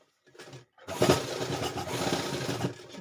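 A sewing machine stitches a pillow cover. A short burst comes first, then after a brief pause a longer, steady mechanical whir of about two seconds, close by.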